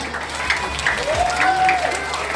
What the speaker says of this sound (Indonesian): tepukan untuk kita semua